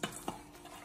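A tablespoon turns spiced chicken pieces in a pot, giving two soft scraping clinks early on, then a faint low sizzle that carries on quietly alone.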